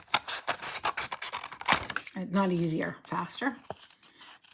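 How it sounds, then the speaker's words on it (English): Scissors snip and rasp through paper being cut out for a handmade card, a run of short crisp cuts close by, briefly under a voice talking. "I'm just going to cut this out because I feel like it might just be easier."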